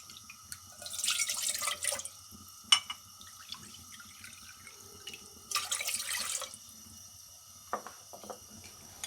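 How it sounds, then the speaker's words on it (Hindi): Water is poured from a measuring cup into a pan on the stove for making jelly, in two short splashing bursts separated by quiet kitchen pauses. "अब मैं पैन में 2 कप पानी डालूंगी मेजर करके।"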